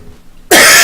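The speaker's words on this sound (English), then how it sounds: "God damn, I hate this cough." A single loud, harsh cough bursts out after a moment of near silence, close and sharp.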